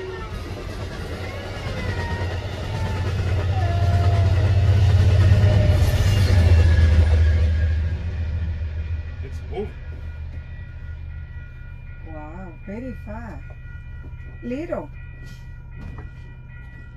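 A train rumbles past loudly at a crossing, swelling then fading, followed by a ringing crossing bell and rising whistle-like tones, with people talking nearby.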